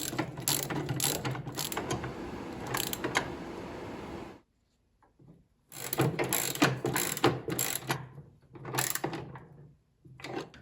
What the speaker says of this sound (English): You want to use that same adjustable wrench to hold the axle in place while you tighten it.